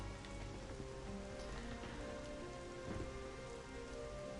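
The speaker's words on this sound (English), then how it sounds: "Ah, the rain, that's so cool." Steady rain in the Dragon Quest XI video game, a dense, even wash of drops pattering on surfaces with no voices, holding at a constant level throughout.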